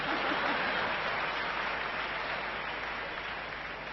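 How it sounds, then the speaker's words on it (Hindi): Dense, continuous audience applause fills the room at a steady level, with no single claps standing out, then eases slightly toward the end. "मुझे पता था आप बिना बताए तालियां बजाएंगे"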